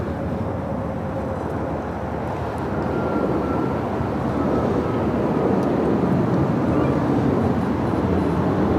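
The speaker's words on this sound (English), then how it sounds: "First takeoff of the stream heading to Chicago here, United Airlines Flight 1400 at 737 at max 9." A United Airlines Boeing 737 MAX 9 takes off from LAX on a flight to Chicago, its engines making a broad continuous roar that builds gently and stays loud for several seconds.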